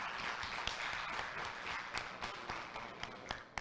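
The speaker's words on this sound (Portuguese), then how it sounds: "Peço também uma salva de palmas para ele." An audience at an architecture seminar applauds, a steady wash of many hands clapping at moderate level with scattered louder claps and no speech over it.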